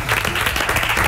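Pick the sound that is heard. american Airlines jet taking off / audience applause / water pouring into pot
audience applause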